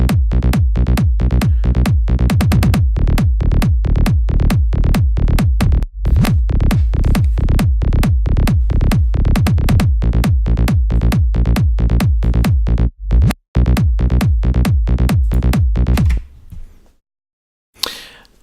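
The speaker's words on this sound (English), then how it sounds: "So if we turn on the kick and the sub bass, it sounds something like this." A trance kick drum and sub bass programmed in Ableton Live, thumping in a steady four-on-the-floor pulse of loud, deep hits with a brief gap near the end before stopping, alone without voices.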